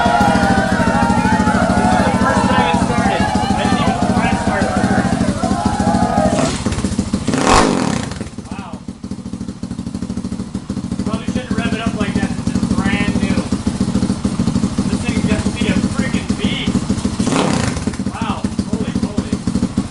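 A Grom clone motorcycle with an aftermarket exhaust cranks over, catches and runs up close, the engine note clattering and revving with a brief thump partway through, while a person talks over it.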